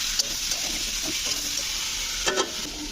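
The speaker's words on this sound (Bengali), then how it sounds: "টমেটো আলু দিয়ে বেশ কিছুক্ষণ ভেজে নিলাম।" Tomatoes and potatoes fry in a pan with turmeric and salt, giving a steady soft sizzle with a few scraping stirs of a spoon, close and without talk.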